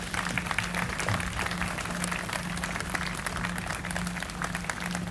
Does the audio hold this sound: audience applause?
yes